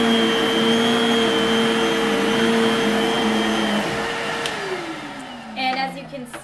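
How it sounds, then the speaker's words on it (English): Vacuum cleaner running loudly on carpet to pick up pet hair, a steady roaring whine that winds down near the end as the motor slows, followed by brief handling noises. "I'll vacuum it up."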